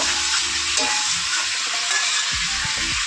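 Oil sizzles steadily in a pan as food fries with green chilies, a dense continuous hiss with occasional stirring scrapes and clatters near the end, close by and with no talking.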